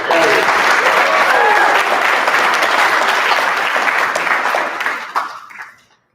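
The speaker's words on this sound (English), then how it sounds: "a big, big round of applause" Big round of applause from an event audience for the helpers, loud and sustained from the start, then tapering off and fading out over the final second.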